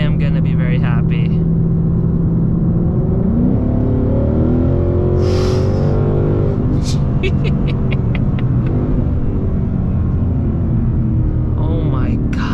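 E85-fuelled Ford Mustang GT V8 accelerating on the road, with a loud, continuous low engine rumble rising in pitch as it pulls hard, while a voice speaks excitedly over it.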